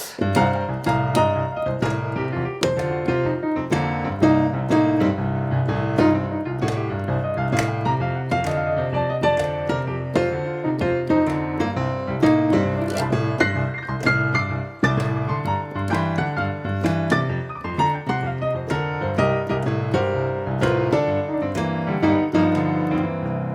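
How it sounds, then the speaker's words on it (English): Solo piano plays a lively blues scale improvisation over a 12-bar blues progression, with busy right-hand runs over steady chords, continuous and fairly loud. "you can improvise the blues scale over the blues chord progression"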